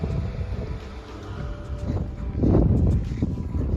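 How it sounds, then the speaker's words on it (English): Strong wind buffets the microphone at Manzanar National Historic Site, a World War II Japanese internment camp, with a steady low roar that surges louder near the end and no talking. "the wind is so crazy here"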